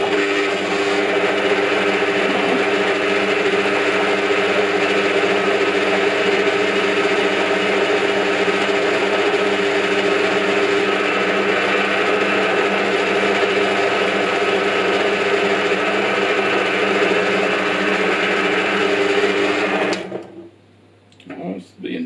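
A Parkside bench pillar drill bought from Lidl runs steadily at a constant pitch, a loud, even motor whine with a hum, then cuts out abruptly near the end.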